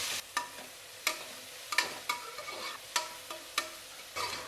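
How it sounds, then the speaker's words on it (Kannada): Onions frying in a pan for Nagercoil-style prawn biryani, a steady close sizzle broken by about eight sharp scraping stirs of a spoon at irregular intervals, no voices. "ಈರುಳ್ಳಿ ಚೆನ್ನಾಗಿ ಫ್ರೈ ಆಗಬೇಕು, ಹಸಿ ಇರಬಾರ್ದು ಈರುಳ್ಳಿ."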